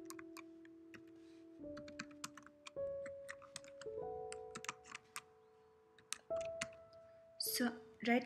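Fingers type on a computer keyboard, producing quiet, close, irregular key clicks in short runs, heard alongside steady electronic tones and someone talking.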